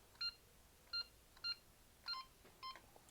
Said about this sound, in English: now the system is setting, it will do a fast beep